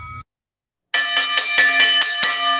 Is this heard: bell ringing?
yes